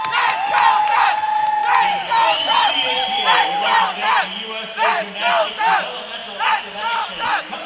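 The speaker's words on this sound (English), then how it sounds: "Crowd still rowdy behind us." Rowdy crowd at an acrobatics and tumbling championship semi-final, cheering and whooping in rhythmic bursts that rise and fall, loud and close-sounding, with shouted chants.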